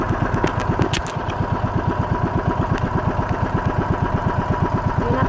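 A boat engine runs steadily near the shore, a loud, even pulsing chug at a fast constant rhythm with a few brief higher clicks at the start.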